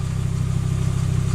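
A 1995 Audi S6 on its original exhaust drones steadily while driving, a deep throbbing engine note heard from inside the car with no talk over it.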